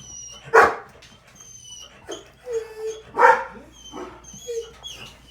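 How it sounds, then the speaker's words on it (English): A dog barks several times in short bursts, close by, with brief pauses and a quieter whimpering yip between barks. "Scarlett, no more barking, my friend. No more barking."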